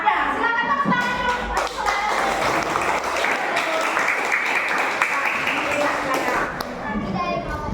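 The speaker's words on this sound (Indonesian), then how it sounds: "Silakan tepuk tangan dulu." An audience of students claps together in a classroom discussion session, a dense sustained round of applause with some children's voices mixed in beneath it.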